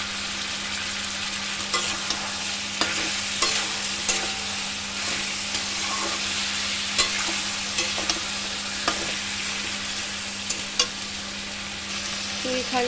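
Onions with a little salt frying in a pan for a chicken curry, sizzling steadily while a utensil scrapes and stirs them in repeated sharp strokes, close and alone without talk.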